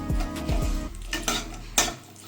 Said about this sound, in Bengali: আমি একটু নেড়ে চেড়ে ভেজে নেব বড়িগুলি